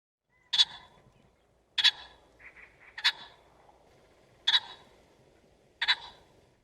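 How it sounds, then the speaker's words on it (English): A pheasant calls in five sharp, loud bursts spaced about a second apart, each short and harsh, with faint softer notes between them and near-silence in the background. "Pheasant."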